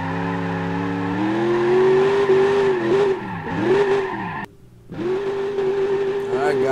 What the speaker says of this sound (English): Definitely smoke those tires up, no problem